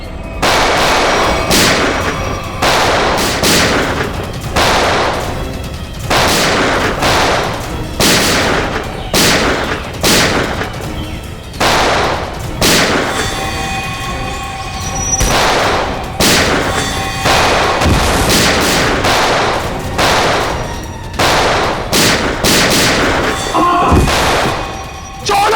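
Dense gunfire in a TV crime-drama shootout, loud rapid shots and bursts crackling continuously throughout, with booming impacts and faint voices mixed in.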